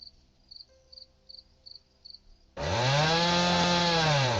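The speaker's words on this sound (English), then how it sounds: "Cue the chainsaw." Chainsaw in the Ranch Simulator game, clearing trees. Faint rhythmic insect chirps come first, then the saw starts abruptly and runs as a loud, steady, high-pitched whine.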